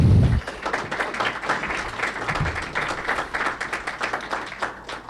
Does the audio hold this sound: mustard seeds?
no